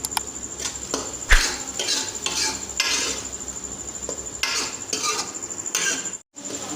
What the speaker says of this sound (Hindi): मेथी को हमने अच्छी तरह से भून लिया।